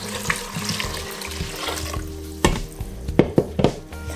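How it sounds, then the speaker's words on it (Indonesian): Water pours into a pot of softened vegetables for red lentil soup, a steady running splash at close range with a few louder clinks and sloshes toward the end; no one speaks. "Nah, sekarang ini airnya kita masukkan."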